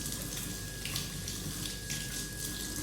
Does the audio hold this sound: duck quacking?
no